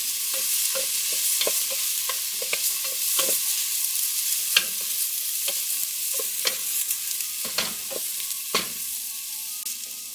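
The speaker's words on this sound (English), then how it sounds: "So you allow this to saute for a little while. Then we add garlic." Garlic sautés in a pan for a cabbage soup, with a steady sizzling hiss broken by scattered scrapes and taps as it is stirred. The sound is close, with no voices.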